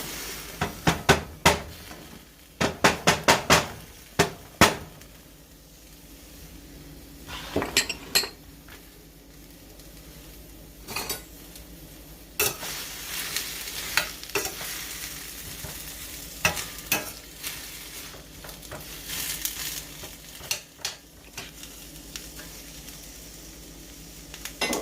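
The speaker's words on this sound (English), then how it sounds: "Now I'm going to dump my onions and peppers in the skillet." Onions and peppers tip into a hot skillet and sizzle steadily, with a burst of sharp clinks and scraping from a utensil early on and intermittent stirring knocks over a continuous frying hiss.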